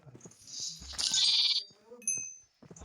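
A Minecraft sheep bleats in the game, with several wavering bleats rising over a talking voice and quieter background game sounds.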